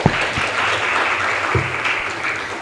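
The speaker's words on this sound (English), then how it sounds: "Please give a big round of applause." An audience at an inter-school education competition claps steadily to welcome the chief guest, a dense, sustained round of applause filling the hall with no pauses.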